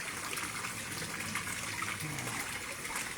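Air aerator churning a fish pond, a steady broadband bubbling and rushing of water that holds at an even level throughout, with no talk over it.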